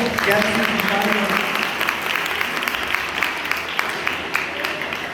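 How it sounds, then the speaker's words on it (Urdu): A congregation applauding in a church service, sustained clapping that stays steady for several seconds, with voices mixed into the crowd noise. "تالیاں تالیاں، سچی تالیاں تالیاں"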